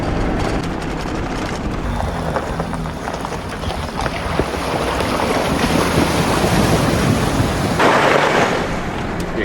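An overland vehicle fords a river on Chile's Carretera Austral in Patagonia, with steady rushing water and splashing heavy throughout, a surge of louder spray near the end, and wind buffeting the microphone.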